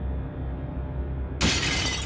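Glass windshield bursting as it shatters, a sudden loud crash cutting in after a low rumble, with bright crackling fragments lingering for about half a second.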